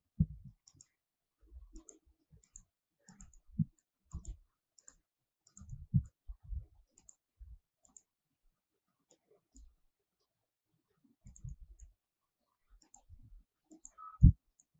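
Computer mouse clicking while supports are added in 3D printing slicer software: sparse, quiet single clicks scattered irregularly across a mostly silent stretch, close to the microphone.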